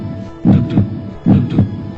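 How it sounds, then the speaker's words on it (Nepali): A fast heartbeat effect from a ghost story: two loud, deep lub-dub double thumps in quick succession over a low hum, close and throbbing. "हर्केको मुटु पनि छिटो छिटो चल्दै थियो।"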